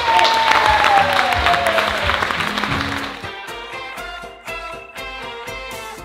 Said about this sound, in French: On peut les applaudir, la team Open Golf.